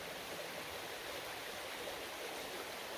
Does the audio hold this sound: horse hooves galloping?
no